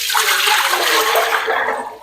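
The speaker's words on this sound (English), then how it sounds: "Then I'll pour in this water." Water is poured into a pot on a gas stove before boiling rice for native palm oil rice, a loud, close gushing splash lasting a couple of seconds.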